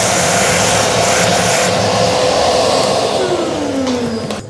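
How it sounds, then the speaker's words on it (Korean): Loud, steady whine of a vacuum cleaner sucking leftover coffee beans out of a grinder's hopper, with rattling of beans and the motor pitch shifting and sliding downward near the end as it winds down. "이 안쪽에 있는 원두들을 이제 사용을 못 하다 보니까 청소기로 빨아들여 줄 거예요."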